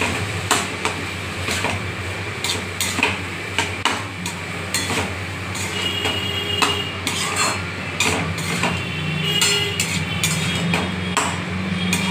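Lentils (dal) being fried and stirred in a pan over raised gas heat, with repeated metallic clinks and scrapes of a spoon against the pan over a steady low sizzle, close and continuous with no talking.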